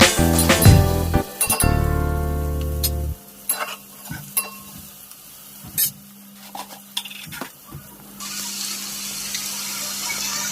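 Oil sizzles in a pan with clinks and scraping stirs; a loud burst of frying at the start settles into a steady low sizzle with occasional utensil taps.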